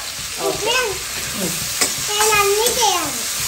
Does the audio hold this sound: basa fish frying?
yes